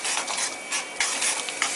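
A spoon stirs ground tomato thokku with curry leaves in a frying pan, giving a close, steady sizzle broken by a few scraping strokes against the pan.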